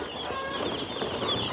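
Chickens peeping and clucking in a brooder box in a barn, a steady dense chatter of many birds close by with no talking.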